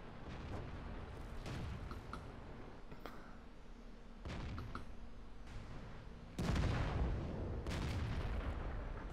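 Tank guns firing in World of Tanks: heavy booming shots in a battle, with several distant blasts and one loud close cannon shot near the end that rolls on, over a low rumbling background.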